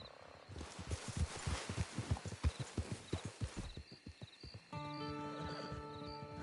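Rhythmic clip-clop of horse hooves at a steady walk in the video game Red Dead Redemption 2 Online, close and clear, giving way to a sustained tonal hum with faint chirping.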